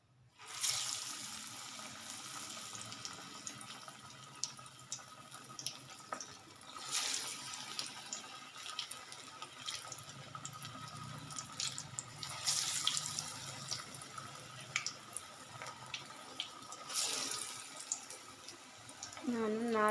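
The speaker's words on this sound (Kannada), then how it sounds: "ಇವಾಗ ಒಂದೊಂದೇ ವಡಾನ ಎಣ್ಣೆಯಲ್ಲಿ ಬಿಡ್ತೀನಿ ನೋಡಿ" Dill leaf vadas fry in hot oil with a steady, hissing sizzle that continues throughout. Occasional louder crackling flares rise above the frying at a moderate distance.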